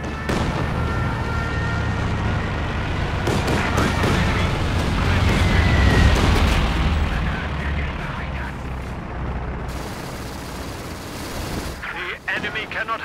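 Stuka dive bombers striking a target in the strategy game Company of Heroes 2, with heavy rumbling bomb blasts and crackling explosions that swell in the middle and then ease, while in-game voices speak over the barrage.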